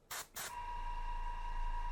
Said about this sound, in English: So I'm spraying at the top of the wings, the top of her head.